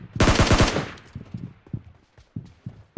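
A rapid burst of automatic gunfire in a battle-royale video game, loud and close, fades into scattered single shots and footstep-like thuds over the next two seconds.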